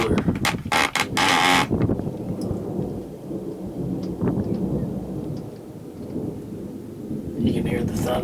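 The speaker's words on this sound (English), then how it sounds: "You can hear the thunder." Thunder rumbles heavily through steady pouring rain, with a loud crack early on and rain hissing throughout.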